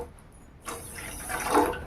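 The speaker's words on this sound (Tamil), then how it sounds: "அதே கப்பில் 2 கப் அளவுக்கு தண்ணி சேர்த்துக்கலாம்." Water poured from a cup into a pan to make sugar syrup for a gram-flour sweet, a soft splashing pour that starts after a quiet moment and swells louder toward the end, with no talking.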